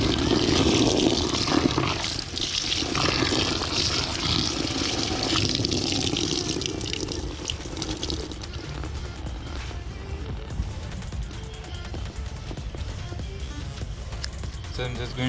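Warm and then normal water runs steadily into a tub to soak a Rynox Air Evo GT riding jacket, a continuous loud rushing pour that eases slightly midway, with talking over it.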